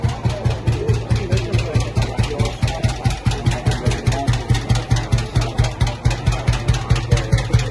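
An old vintage 500 cc motorcycle engine idles at an outdoor show of old motorcycles in Lagnasco, Italy, with a loud, close, steady thumping beat and a deep rhythmic exhaust pulse, alone with no talking.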